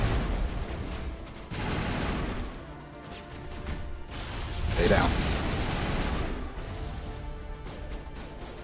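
Gunfire and explosions in the Mass Effect video game, bursts of rapid shooting and heavy crashing blasts over rumbling combat noise, with a voice speaking briefly among the shots.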